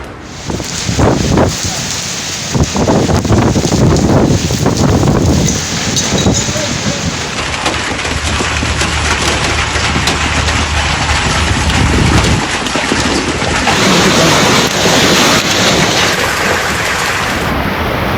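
Heavy rain and gusting wind in Islamabad, a loud dense roar of downpour with buffeting wind noise on the microphone, continuous throughout with brief louder bursts.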